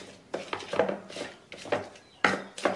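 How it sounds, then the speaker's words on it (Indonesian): Fresh tomatoes are roughly crushed in a stone mortar and pestle while cooking an Indonesian shrimp dish, with irregular, close pounding thuds and squelching knocks repeating every half second or so, and no talking. "Nah, ini mau kita ulek tapi cuman asal dibejek aja, Fluffy"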